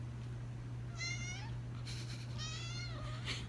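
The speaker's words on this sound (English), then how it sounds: "the cat wants some attention" A cat meows twice for attention, two rising, plaintive calls about a second apart, close by over a steady low electrical hum, with a faint rustle between them and no talking.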